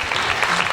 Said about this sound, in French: vous pouvez applaudir très généreusement les jeunes filles qui sont présentées